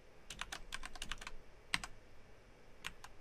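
Quiet typing on a computer keyboard while writing an SQL constraint, with clusters of light, crisp key clicks in quick runs, a single sharper keystroke, and pauses between bursts.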